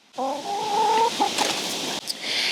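A rescue hen in a garden clucks close and loud, with a few drawn-out tonal calls followed by short clucks and rustling.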